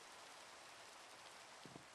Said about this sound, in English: I really don't want it to be raining.